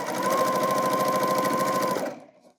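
Sewing machine stitching straight off the edge of fabric while sewing a pillow, a loud, close, steady rapid whir that cuts off after about two seconds.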